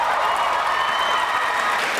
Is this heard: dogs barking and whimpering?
no